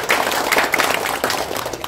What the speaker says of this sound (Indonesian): tepuk tangan yang meriah buat beliau